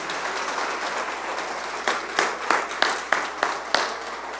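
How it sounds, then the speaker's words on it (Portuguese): Broadband noise like a church congregation applauding, with a few sharp louder claps standing out near the end. "Vamos aplaudir a Jesus mais uma vez."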